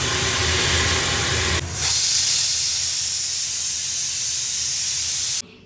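Water poured onto spice paste frying in a pan with cumin and onion for a brinjal masala makes a loud, rushing hiss of steam and sizzle. It cuts out briefly, surges back and stays steady, then stops abruptly near the end.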